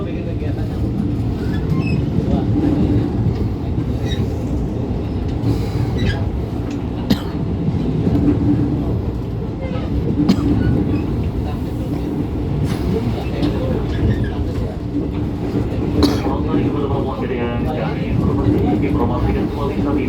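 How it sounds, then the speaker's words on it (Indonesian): A KRL commuter train runs toward Tanah Abang station, with a steady low rumble and occasional rail clicks heard from inside the carriage. Voices talk over the running noise throughout. "bisa langsung aja nih naik kereta KRL ini menuju ke stasiun Tanah Abang"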